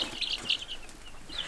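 Baby chicks in a brooder give faint, high peeping chirps, a few short tweets over quiet background.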